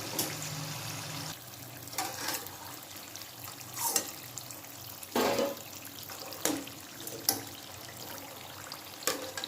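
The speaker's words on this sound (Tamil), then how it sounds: "முறுக்கு அந்த படப்படன்னு சத்தம் அடங்கணும்." Murukku frying in a large pan of hot oil, a steady close bubbling crackle with scattered sharp pops and splashes, no talk.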